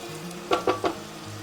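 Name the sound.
onions frying in melted butter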